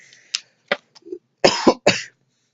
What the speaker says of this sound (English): I really do not know why I'm coughing this bad